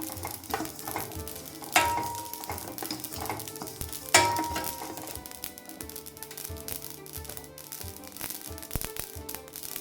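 Dried coconut dry-roasting in a pan for gasagase payasa, a poppy seed kheer: soft scraping and stirring with light clinks of the utensil against the pan, and two sharper knocks near the start, all fairly quiet with no talking.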